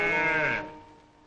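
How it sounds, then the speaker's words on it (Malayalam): Cows on a farm give a single short lowing call, fairly near and clear, trailing off quickly with no other sound around it. "പശുക്കൾ കിടന്ന് അമർന്നത് കേട്ടില്ലേ"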